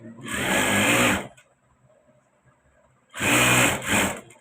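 A sewing machine stitches a straight line along a fabric border in two loud, steady whirring bursts, separated by a short pause with only faint handling noise.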